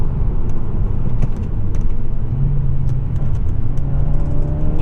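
Steady engine and road rumble from a 2024 Acura Integra A-Spec taking an S-turn, heard from inside the cabin as a constant loud drone with a slight rise in engine pitch toward the end.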